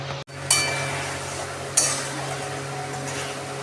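Egg curry with pre-fried eggs and green chillies simmers and bubbles in a pan with a steady close sizzle, broken twice by brief clinks of a utensil against the pan.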